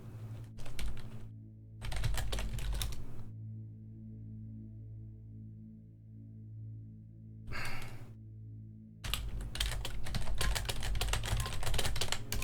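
Computer keyboard keys clatter in several bursts of rapid typing, separated by pauses with a low steady hum beneath, close and fairly loud, with no speech.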